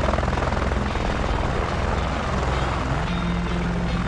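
A helicopter comes in to land close by, its rotor and engine making a loud, steady thudding roar that fills the whole stretch without a break.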